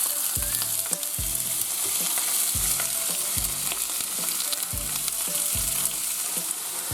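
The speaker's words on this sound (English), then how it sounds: "I also like to get my onions in there as soon as possible because they take a while to cook through. And we're just going to give that a good sear." Venison and onions sear in a hot pan, a loud continuous sizzle broken by regular low thuds and scrapes of stirring, close up with no talking.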